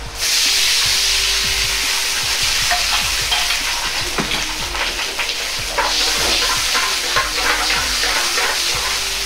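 Sweet and sour sauce poured into a wok drained of frying oil and heated, a loud continuous sizzle and bubbling with light stirring scrapes, no voices.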